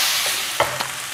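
Beef kway teow with sausage sizzles steadily in a hot pan, with a few sharp scrapes and clacks as the utensil stirs the noodles close up.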